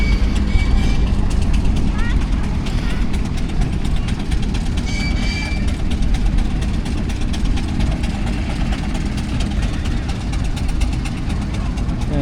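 An old Scammell army tow truck engine idles with a steady low rumble throughout, a continuous close mechanical drone with faint clatter, while people talk nearby and a steam engine works in the background.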